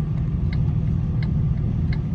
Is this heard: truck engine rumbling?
yes